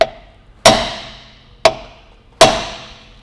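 Hammer blows seat a bearing race in a Ford 8.8 rear axle: three sharp, loud metallic strikes about a second apart, each ringing briefly before fading.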